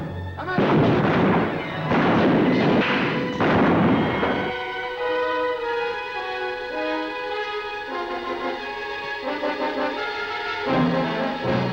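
Soldiers fire guns in a 1952 western battle scene, a burst of several loud, booming shots in the first few seconds, followed by dramatic orchestral music.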